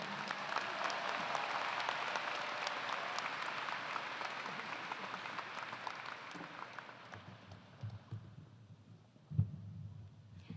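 An audience at the UW-Madison Convocation 2022 applauding to welcome a speaker: steady, full clapping from a large crowd that gradually thins and fades into scattered claps and room noise near the end.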